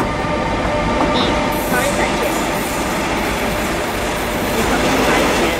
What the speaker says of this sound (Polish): Ale te odgłosy tak jak w prawdziwym pociągu.